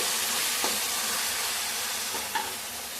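Spice paste (masala) stir-fried in a pan with a little sugar, a steady sizzling hiss with faint scraping stirs, close and continuous with no voices.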